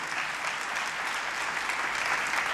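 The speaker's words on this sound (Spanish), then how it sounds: "esto lo sé gracias del aplauso." Sustained, dense audience applause fills a hall at an international forum on emancipation and equality, steady and loud throughout with no voices over it.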